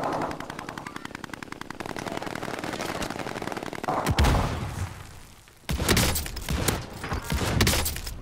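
Video game gunfire in an online squad firefight, first a fast, steady run of automatic shots, then heavier bursts and thuds after a short lull, close and loud.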